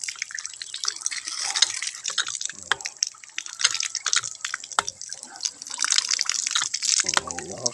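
Water gushing from a newly set up Jetmatic electric pump, a steady splashing pour with dripping close by, and a voice briefly heard near the end.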